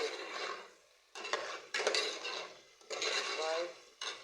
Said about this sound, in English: Then I'm going to stir thoroughly also